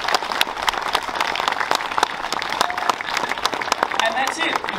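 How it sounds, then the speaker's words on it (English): Outdoor crowd at a community reconciliation walk gives a round of applause, a continuous mix of clapping hands with sharp individual claps, while voices and chatter carry on throughout. "So I think a round of applause from BRG for BRG."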